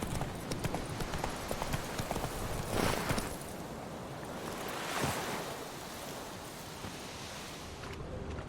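Hooves of the horse Roach clip-clop in The Witcher 3, a steady quiet gait layered over a washing surf and wind ambience, with no talk.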